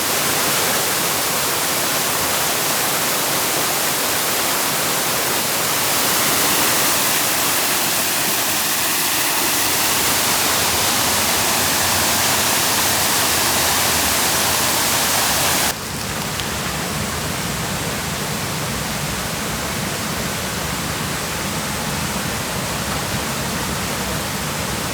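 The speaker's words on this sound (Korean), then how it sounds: "매월드 폭포도 너무 멋있습니다." Maewoldae waterfall rushes in a dense, constant roar of falling water at an autumn campsite, loud and unbroken, with a sudden shift in tone partway through as if the position changes.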